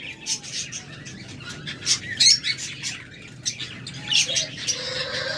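A mutation-colour pair of budgerigars in a breeding cage chirps and warbles in quick, bright bursts at close range, with faint squawks and wing flutters and no talking.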